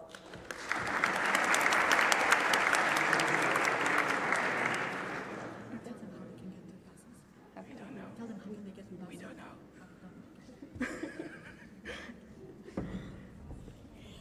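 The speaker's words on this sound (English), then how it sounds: "But round of applause for them as well" Audience applause for announced prize winners at an Erasmus student event in Ghent, a dense burst of clapping that swells quickly, holds for several seconds, then fades into scattered claps and murmuring crowd voices.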